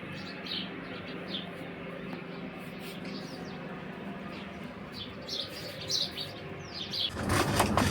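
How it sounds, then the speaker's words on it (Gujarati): Sparrows chirp as they feed on scattered sev and rice: faint, scattered high tweets come and go over a quiet background, ending in a louder rustling burst. "ચકલાને સેવ ને ચોખા પણ આપણે નાખી દીધા છે."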